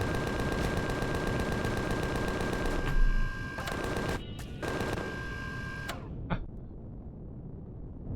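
Weapons firing in the space game Empyrion Galactic Survival, a rapid mechanical rattling volley of shots with a steady tone underneath, broken by short gaps and a final sharp burst before quiet.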